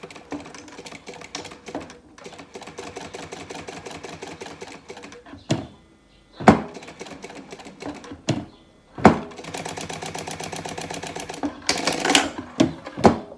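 Sewing machine stitching around the edge of a synthetic leather binder, rapid mechanical whirring in bursts separated by short pauses and sharp clicks, close and fairly loud with no voices.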